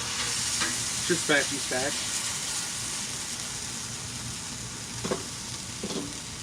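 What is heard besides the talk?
meat with sauce frying on a griddle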